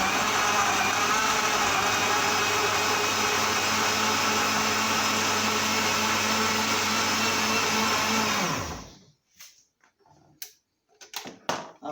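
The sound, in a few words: blender blending pineapple for juice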